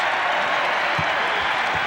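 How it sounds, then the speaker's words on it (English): A basketball arena crowd at a Duke versus Wake Forest college game applauds steadily as a player takes his seat, broad sustained clapping filling the space with a few louder bumps. "Sean Allen receives a healthy applause"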